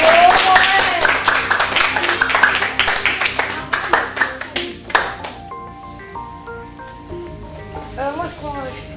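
A studio audience on a quiz show claps for a contestant who has just scored three points. The applause is bright and rhythmic, fades out over several seconds, and is followed by quieter chimes and a voice.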